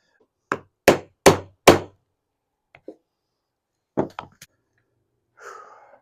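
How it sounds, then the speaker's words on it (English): Hammer striking a rivet into leather jousting belts, four sharp, evenly spaced blows close and loud, followed after a pause by a few lighter taps and a soft breath. "one more rivet and then these belts are done"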